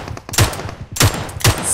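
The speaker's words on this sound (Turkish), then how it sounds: "Sağ tarafta da çatışma var." Three separated bursts of gunfire ring out in a PUBG Mobile firefight, each a sharp crack with a short tail, spaced unevenly over a faint game-ambience background, with no voices.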